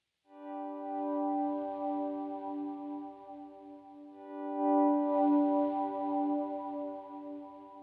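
Ukulele note swelled in gradually with a volume pedal through an effects chain, a sustained harmonic tone fading up smoothly, then a second note swelling in again, with no talking.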